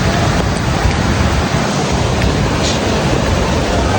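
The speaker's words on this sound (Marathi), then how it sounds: "मागणं धबधब्याचा आवाज येतोय तेवढा ऐका." The Kelavali waterfall near Satara roars as a dense, unbroken rush of falling water, loud and close, holding steady throughout without any voices.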